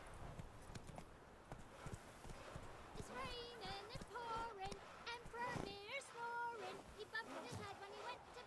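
Roach, a horse in The Witcher 3, clip-clops along at a steady walking rhythm, hooves close and clear, while someone talks over them and a few short whinny-like calls and game sounds rise partway through.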